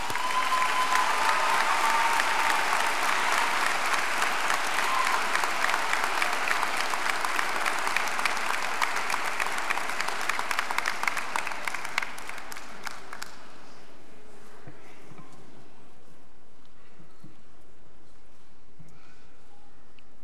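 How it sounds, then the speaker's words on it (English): A high school graduation audience claps, dense sustained applause filling the room for about thirteen seconds before stopping abruptly into quiet hall ambience. "if you're happy and you know it, clap your hands"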